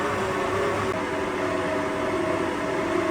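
An electric mixer beating peanut butter cookie dough at a slightly raised speed, a steady continuous motor whir with a faint tonal hum and no pauses.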